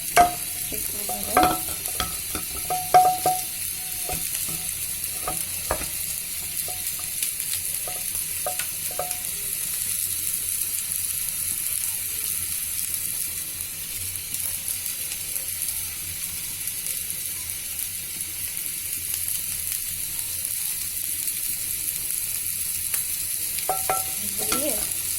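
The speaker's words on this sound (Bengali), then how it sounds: "এখন আমি এই ব্যাটারটা দিয়ে দিব, দিয়ে পাটিসাপটা পিঠা যেভাবে বানাই ঠিক ভাবে" Vegetable roll batter fries softly in a pan as a faint continuous sizzle, with a few light clinks and scrapes at the start and near the end.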